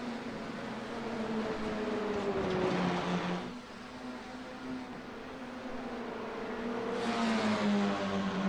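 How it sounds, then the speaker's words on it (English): Race car engines in a racing video game, FIA F4 cars, drone and whine continuously, pitch sliding up and down with gear changes, a steady mechanical roar with no talking. "listen to that engine noise. It sounds so cool."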